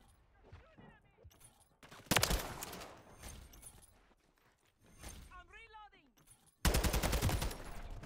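Gunfire in the video game Modern Warfare 3 hardcore mode, loud bursts of rapid shots in two clusters with quieter stretches between, mixed with game sounds and a voice talking.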